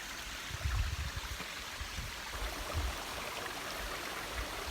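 Waterfall stream at Chim Yai waterfall, Ban Khao Phluang, Phetchabun, Thailand, rushing in a steady broadband wash with low gurgling surges, heard close and continuous with no voices.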